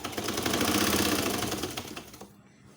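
A sewing machine stitching the seam of a child's trouser, a brief fast rattling run of needle strokes close by that slows and stops after about two seconds, with no voices.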